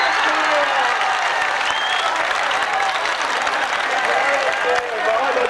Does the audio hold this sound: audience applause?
yes